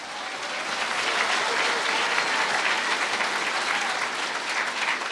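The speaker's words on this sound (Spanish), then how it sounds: "Fuerte aplausos" A congregation at a religious gathering claps steadily and fairly loudly, with dense applause building in the first second and then holding without pause.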